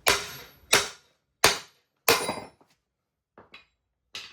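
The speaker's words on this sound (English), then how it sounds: "Take your best hammer." Several sharp metallic hammer strikes at uneven intervals on a cracked lower control arm of a 2006 Toyota 4Runner, close and ringing briefly, with a few lighter taps near the end.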